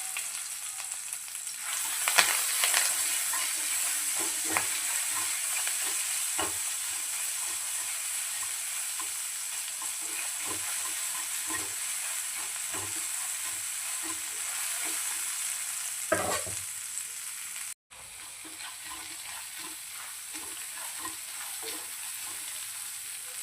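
Curry leaves, turmeric and ginger-garlic paste sizzle and fry steadily in a pan for a coconut-milk mackerel curry, with a continuous close hiss and occasional stirring clatter.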